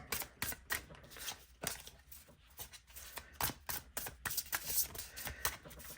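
Tarot deck being shuffled by hand, a close, quiet run of irregular riffling card clicks and slaps.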